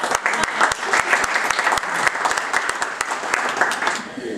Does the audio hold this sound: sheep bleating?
no